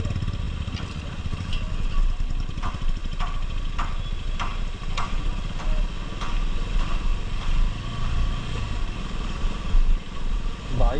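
A motorcycle climbing a narrow mountain road from Gangtok to Lachung in North Sikkim, its engine a steady close rumble with wind noise and faint clatter throughout.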